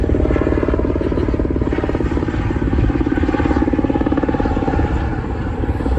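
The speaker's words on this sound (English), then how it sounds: "there's a helicopter" A helicopter thumps steadily nearby, its rapid rotor chop and engine drone loud and constant throughout with no voices.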